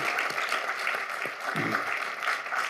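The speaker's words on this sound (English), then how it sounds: "he deserves applause for that." Audience applause at an alumni conversation event featuring a Nobel laureate, a steady wash of many hands clapping at moderate volume for a few seconds, with no talk over it.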